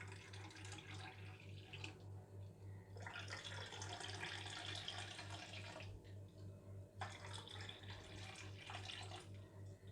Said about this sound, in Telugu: ఇప్పుడు ఇందులో మనం మళ్ళీ కూల్ వాటర్ వేసుకోవాలి